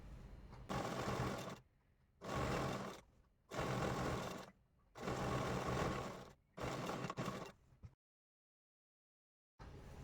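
An electric sewing machine stitches the hem and seams of a gown being altered, running in five loud bursts of steady whirring separated by short pauses, then falling silent near the end.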